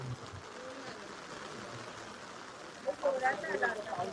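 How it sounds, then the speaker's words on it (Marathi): Heavy rain falls steadily during a road trip toward Nashik, a dense even hiss that fills the whole stretch, with a voice talking over it near the end. "आता एवढा पाऊस चालू झाला आहे"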